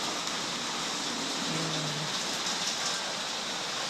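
Rainwater flows and pours down during Typhoon Aghon in the Philippines, a dense, even hiss of water that holds steady throughout, with no voices.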